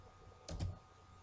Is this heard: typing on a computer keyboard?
yes